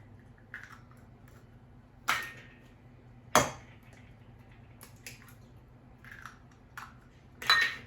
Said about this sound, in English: Kind of whisk the eggs up